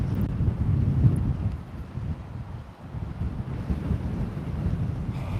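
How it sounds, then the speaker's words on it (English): Strong outdoor wind buffets the microphone in a continuous loud low rumble with gusty surges and one brief lull midway, no voice over it. "This is insane, insane wind."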